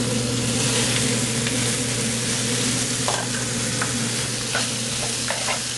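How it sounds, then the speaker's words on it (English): Sweet and hot Italian sausage with hamburger meat sizzles steadily in a pan for chili, a constant frying hiss with occasional stirring scrapes and taps, close and alone. "We're going to get that dancing around the pan in there."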